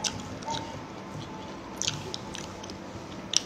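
Someone chewing spicy fried rice (nasi goreng), with soft, steady mouth and biting noises up close, broken by a few sharper crunchy bites. No talking is heard.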